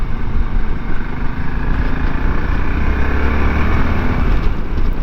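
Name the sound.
2023 Voge DSX650 motorcycle riding through roundabouts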